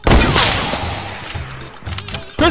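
Gunfire in Fortnite bursts loud and close at the start, followed by a few quieter cracks and one more sharp shot at the end, with faint game background between.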